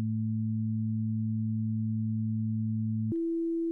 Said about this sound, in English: it's a sine wave playground on its own